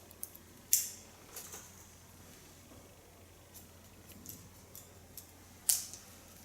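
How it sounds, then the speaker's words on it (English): Scissors snip at a client's hair in an asymmetric clipper-cut styling session, giving a few sharp, close clicks spaced apart over a quiet room. "Just cut it in natural lines."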